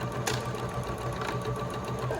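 A sewing machine stitches a fabric mask, with a steady, fast mechanical whir and a few sharper clicks, close and alone.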